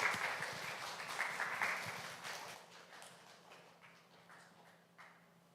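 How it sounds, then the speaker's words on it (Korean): A church congregation applauds to welcome the pastor at a Sunday worship service: a dense burst of clapping that is loudest at first, then thins and fades into scattered claps with a low hum underneath. "환영의 박수로 맞이하겠습니다."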